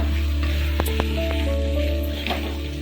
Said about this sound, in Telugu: ఆనియన్స్ పచ్చిమిర్చి అయితే గోల్డెన్ బ్రౌన్ వచ్చేంత వరకు వేయించుకోవాలి